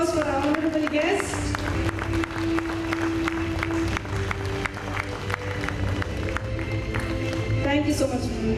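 Audience applause at a school annual day, steady clapping from a crowd of parents and children that keeps on for several seconds, with a voice over a loudspeaker and some music tones underneath.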